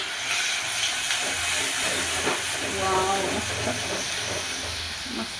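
Ginger garlic paste hits hot oil in a pan for a spicy Kolhapuri mutton curry, giving a loud, steady hiss and sizzle close up, with a voice talking over parts of it.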